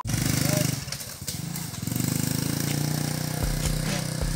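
A motorcycle engine runs steadily at close range on the way to Hagimit Falls, Samal Island, a low rumbling drone with brief dips, while people talk over it.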